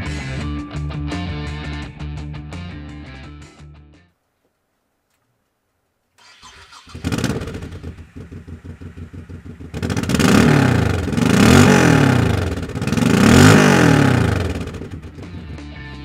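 A 2007 Honda VT1100 Shadow Sabre motorcycle with drilled mufflers cranks, stops, then fires up and idles with a lumpy throb before revving loudly in repeated swells, close and alone.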